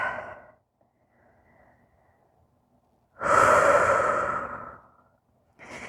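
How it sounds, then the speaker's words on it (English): Deep breathing during a morning vinyasa yoga flow: a long, audible exhale through the mouth, close and strong, with a shorter breath before and after and quiet gaps between. "One more breath here."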